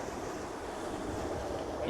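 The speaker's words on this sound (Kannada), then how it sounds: "ನಮ್ಮೂರಿನ ಸಮುದ್ರ ತೀರ ನೋಡಿ ನೋಡಿ ನೋಡಿ ಯಬ್ಬಾ ಎಂತ ಅಲೆ ಹೊಡಿತದ" Sea waves surge against the shore at Madigudde beach near Bailur, a steady washing roar mixed with wind buffeting the microphone, close and continuous with no talking.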